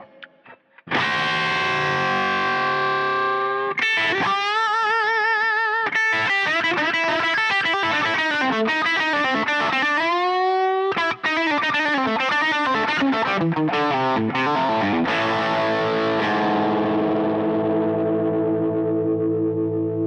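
Electric guitar fitted with new pickups, set to a solo tone, plays a loud, distorted run of sustained notes and quick phrases alone, with effects-laden ringing over about twenty seconds.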